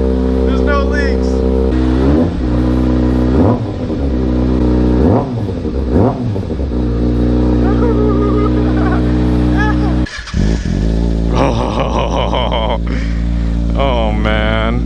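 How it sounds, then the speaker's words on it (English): A 2011 Kawasaki ZX6R motorcycle fitted with a Two Brothers exhaust starts up and idles loudly close by, with several sharp throttle blips and revs rising and falling, while someone talks over it. "So time to get a start up of the bike and make sure that there's nothing leaking."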